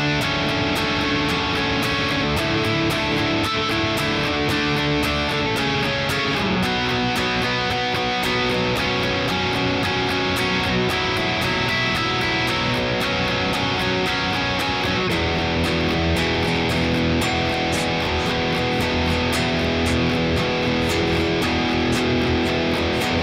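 Electric guitar strums the intro chords in a steady, dense, continuous rhythm throughout, with no voices.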